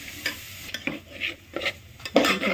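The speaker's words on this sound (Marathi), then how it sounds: "थोडंसं हलवून घ्यायचं." Egg curry with homemade masala stirred in a pan, a spoon scraping and clinking against metal in short irregular strokes over a soft sizzle, fairly close, with no talking.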